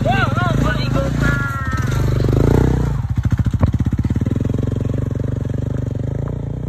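A motorcycle rides along a winding mountain road, its engine droning and pulsing steadily, with a rapid throbbing patter as it works. A person talks over the engine and a horn-like tone sounds early on.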